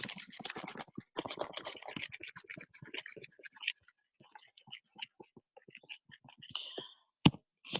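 Writing erased from a board during a math lesson, a run of soft, quick scratchy strokes that thins into scattered rubs and taps, close and fairly quiet.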